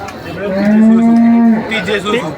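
A water buffalo at a livestock market in Dhanola, Punjab, gives one long, low moo, loud and close, lasting about a second before fading into quieter background noise.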